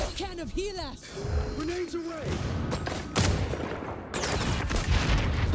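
Marksman rifle shots ring out in the XDefiant video game as sharp, loud cracks in quick succession, spaced across the clip, amid game effects and background noise while a voice talks over them.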